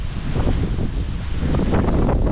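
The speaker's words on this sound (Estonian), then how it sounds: "tuul on näkku otse" A strong headwind roars across the microphone of a bicycle on a rough, muddy road in cool weather, a loud buffeting rush that surges and swells throughout.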